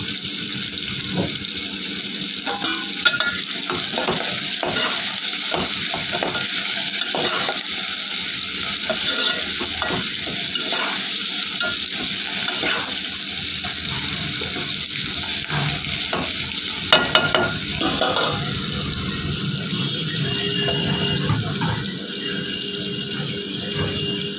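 Curry leaves, tomato and onion fry in a pan with steady sizzling and frequent scraping stirs, close and continuous without any talking.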